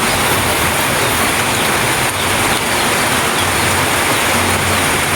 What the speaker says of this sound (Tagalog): lakas na naman ng ulan.